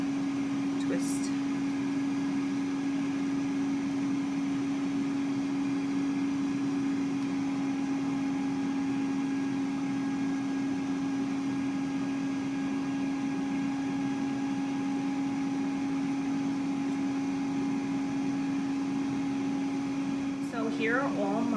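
An air fryer runs steadily while preheating for churros, a constant close mechanical hum with a strong tonal whine and fan noise that continues evenly throughout.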